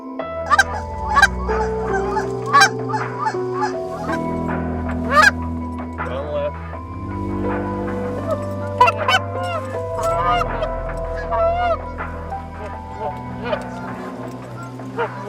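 Canada geese honking during a waterfowl hunt in Ontario, many overlapping loud calls from a close flock mixed with decoy-style calling and occasional sharper cries.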